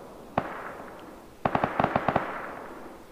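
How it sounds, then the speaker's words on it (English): Gunfire in the Rust video game: one sharp shot, then a quick burst of about seven rapid cracks, fairly close and punchy over a low ambient background. "Shots up there at their base."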